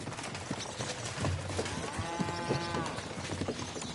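Horse hooves clip-clop at a steady walking pace in a medieval game world, with a harmonic animal call briefly rising over the busy background.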